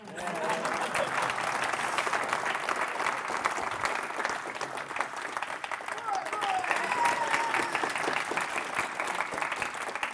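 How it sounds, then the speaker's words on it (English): A conference audience at a talk on Rust and WebAssembly web apps breaks into applause. The clapping is dense and sustained, somewhat distant, and carries on evenly for about ten seconds. "Where's my please clap sign?"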